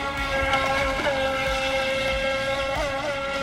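A Feilun FT016 RC catamaran with dual pontoons runs fast across the water, its motor giving a loud, steady high-pitched whine with slight pitch wobbles as it moves.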